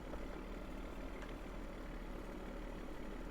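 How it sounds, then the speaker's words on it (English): A tractor reversing in Farming Simulator 2013 gives a steady, deep engine rumble, an even low idle-like drone with no breaks, heard alone. "I like the way this tractor sounds when you back it up. It has like a deep rumble sound."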